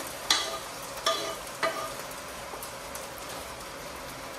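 A few sharp sizzling bursts as meat hits a hot pot for yakhni pulao, followed by a steady frying hiss with occasional stirring clatter.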